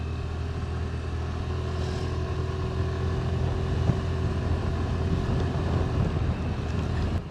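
A Suzuki Burgman 125 scooter ridden with a passenger over a rough road gives a continuous engine drone with low road rumble, steady and close, with no talking.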